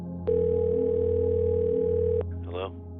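Telephone call sound effect: a loud steady dial tone that starts abruptly, holds for about two seconds and cuts off, followed by a brief faint warbling tone over a low hum.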